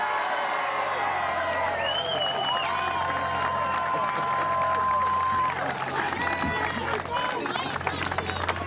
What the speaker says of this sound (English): I say I'm going to lower taxes. I get this nice little round of applause.